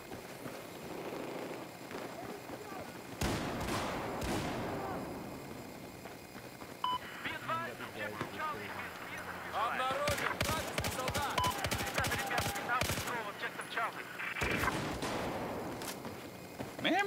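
Bursts of automatic gunfire in Battlefield 4 on a Conquest Assault match, recurring in clusters with game beeps and effects between them, while players chat over the action.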